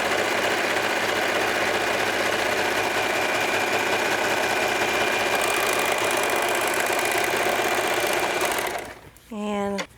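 Serger machine stitching the length of a set-in sleeve seam, a loud steady mechanical whir running continuously for about nine seconds before stopping abruptly, followed by a brief voice.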